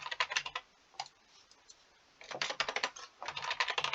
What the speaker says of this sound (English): sorry, the typing is being very weird